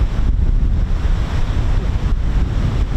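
Strong wind buffets the microphone at an outdoor airfield, a loud continuous low rumble with gusty surges and no talking.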